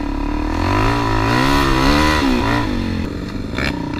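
A Suzuki DRZ400 dirt bike engine revs loud and close on a slippery farm ride, the pitch rising and holding steady before dropping away near the end, with some clatter underneath.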